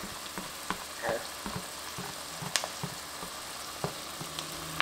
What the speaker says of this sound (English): I'm now going to add my garlic.